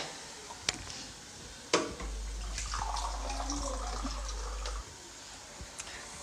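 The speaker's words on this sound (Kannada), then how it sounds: "ನಾನಿಲ್ಲಿ ಮತ್ತೆ ಇನ್ನೊಂದು ಕಾಲು ಲೋಟದಷ್ಟು ನೀರನ್ನು ಹಾಕ್ಕೊಂಡಿದ್ದೀನಿ" Water poured into a pressure cooker in a home kitchen, a steady splashing stream lasting a few seconds, framed by a few sharp knocks and clinks.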